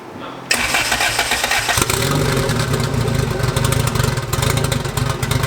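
A turbocharged Honda Civic engine with a new manifold, big turbo and new exhaust with blast pipes cranks and catches on its first start, then settles into a loud, rough, throbbing idle with uneven pulsing revs.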